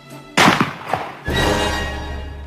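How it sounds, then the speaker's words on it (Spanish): A third gunshot rings out in a historical drama scene of a palace shooting, a loud abrupt bang followed by a smaller report and then a sustained rumbling tail, with no talk over it. "Un tercer disparo."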